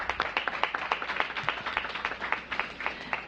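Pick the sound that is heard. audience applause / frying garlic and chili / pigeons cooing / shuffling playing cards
audience applause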